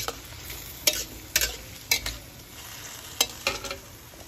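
Bottle gourd (upo) tipped into sardines sautéing in a pan, sizzling steadily with several sharp stirring scrapes and clatters at close range, no talking.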